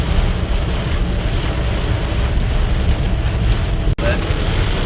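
Strong gusts of 60+ mph wind during a severe thunderstorm in upstate New York roar steadily and loudly against the microphone, a continuous buffeting rush with no pause.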